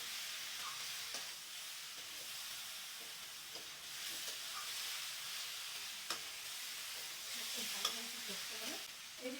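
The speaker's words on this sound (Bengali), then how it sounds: "আমি একটু আবার মশলাটা কষিয়ে নিচ্ছি" A spatula stirs pointed gourd, prawns, tomato and masala in a pan, soft scraping strokes over a quiet frying sizzle, faint and close.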